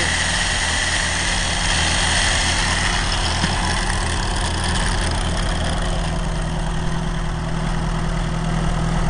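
Vintage Kohler 4 kW, 110-volt light plant generator runs at a steady idle, a continuous even engine drone with a constant low hum that holds unchanged throughout, with no talking.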